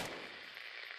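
Faint burst of rapid gunfire in a chaotic online shooter match, a brief distant rattle that quickly fades out.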